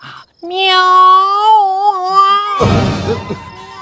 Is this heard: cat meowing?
yes